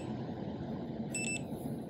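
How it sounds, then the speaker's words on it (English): An LCN 6440 compact automatic door operator gives two short, quiet electronic beeps in quick succession during calibration, sounding over a steady low room hum. "You should hear the operator beep twice"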